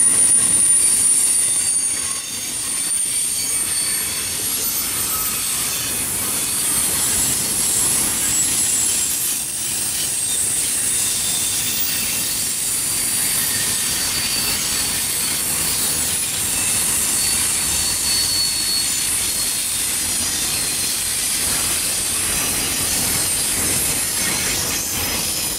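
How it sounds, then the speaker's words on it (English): A long westbound freight train rolls past with a steady, continuous rumble and rattle of railcars, fairly close and loud, sustained throughout without pause. "This is a super long westbound."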